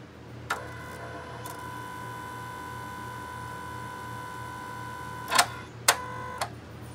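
A 2005-2010 Mustang electronic throttle body cycles its butterfly plates, heard as a steady electronic whine with a few sharp clicks and ticks toward the end over a low hum.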